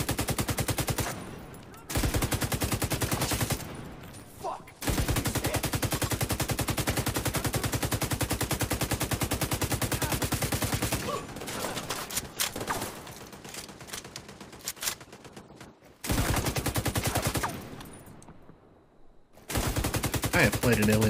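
A light machine gun in The Division 2 rattles off long, sustained bursts of rapid automatic fire, loud and dense, broken by short pauses between volleys.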